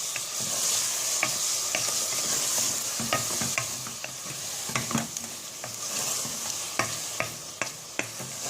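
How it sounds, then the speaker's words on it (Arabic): Thyme and garlic frying with pepper in a pan for chicken basquaise, a constant bright sizzle broken by frequent spoon scrapes and taps against the pan, close and clear, with no talking. "شويه زعتر بالثوم، نخليه يتقلى مليح"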